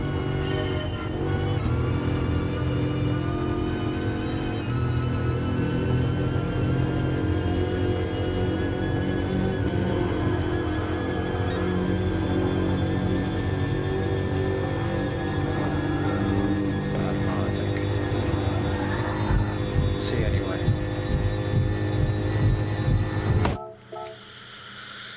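A Bugatti Veyron's engine roars steadily in Gran Turismo Sport during a mission challenge, its rising harmonic drone sustained and loud for most of the run before cutting off abruptly near the end.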